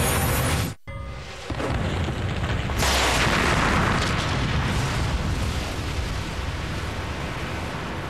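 A huge explosion effect evoking the Big Bang: a brief silent gap, then a deep roaring boom that swells and sustains as a loud, dense rumble across the whole stretch, with no speech.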